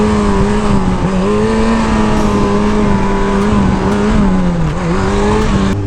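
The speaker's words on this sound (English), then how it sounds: "What we got here, a little mini bike?" A small mini bike engine drones on a Chicago street at Kedzie and Roosevelt, loud and close, with a steady high buzzing note that dips and recovers a few times.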